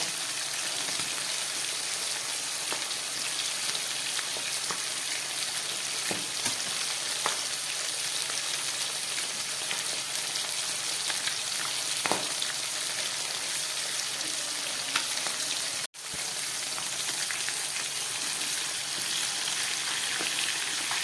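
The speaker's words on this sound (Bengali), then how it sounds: "মাছগুলোকে উল্টে ভেজে নিচ্ছি" Rita tengra fish sizzle and crackle steadily in hot oil in a pan, a dense continuous frying hiss with faint stirring clicks and one brief break near the end.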